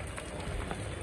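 Steady hiss of monsoon rain pattering on a surface, soft and continuous with no break.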